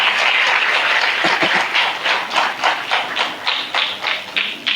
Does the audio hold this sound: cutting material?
no